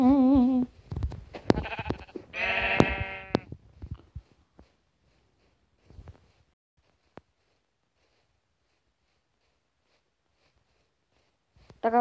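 Sheep bleat in a short burst of wavering calls near the start, with another bleat at the very end, separated by a long stretch of near silence broken by faint shuffles and taps.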